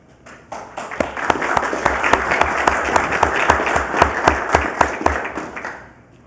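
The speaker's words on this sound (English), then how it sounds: "We give you a round of applause and go from there, all right?" A room of people at a fire board meeting claps together for several seconds, the applause swelling quickly, holding steady with distinct sharp claps standing out, then fading away at the end.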